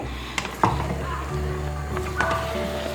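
A spoon stirs a simmering taki fish curry with courgette and pumpkin bori in a pan, giving a few soft scrapes and clicks over a low, even sizzle.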